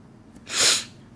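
A single sharp sneeze bursts out close to the microphone, one quick explosive puff of breath with a brief inhale just before it, and nothing else around it.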